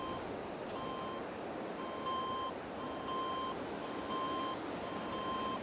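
Reversing beeps from a mining vehicle in Farming Simulator 22: a steady series of evenly spaced electronic beeps over a constant engine drone, moderately loud and without talk.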